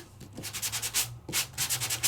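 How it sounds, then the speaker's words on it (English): Light rhythmic sanding strokes rasp back and forth across cardstock, soft and close, in two quick bursts. "So you can take it and you can sand it off ever so lightly."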